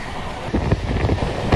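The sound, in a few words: Kolkata Radhikapur Express train running above 100 km/h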